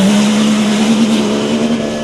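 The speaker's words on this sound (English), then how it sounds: "Kuba Pchegonski launches into the stage." A Dakar 2022 rally car launches into the stage with a loud, steady engine drone, a sustained low roar and hiss held close throughout with no break.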